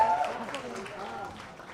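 Audience applause and cheering at a music label launch event with Bollywood celebrities, a short burst of clapping and whoops mixed with an excited voice, tapering off quickly.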